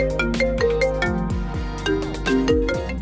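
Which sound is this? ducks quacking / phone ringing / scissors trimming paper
phone ringing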